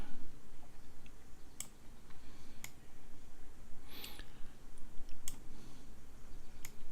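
Light, sharp computer mouse clicks while shift-clicking to duplicate in the Scratch editor, scattered single clicks spaced about a second apart, close and quiet over a steady low background hum.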